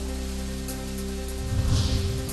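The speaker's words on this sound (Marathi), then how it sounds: "रत्नागिरी सातारा जिल्ह्यांना जोडणाऱ्या कुंभार्ली घाटात मुसळधार पाऊस." Heavy monsoon rain at Kumbharli ghat, the mountain pass linking Ratnagiri and Satara districts, makes a steady broadband hiss with a low rumble swelling partway through, and no voices are heard.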